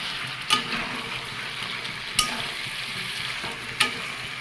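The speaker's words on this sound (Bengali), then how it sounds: "আর এখানে আমি দিয়ে দেবো এই মশলাটা। মশলাটাতে হালকা কষাবো।" Chicken with spice masala sautéing in a pan for a yogurt chicken curry, a steady close sizzle broken by three sharp utensil scrapes at even intervals; no voices.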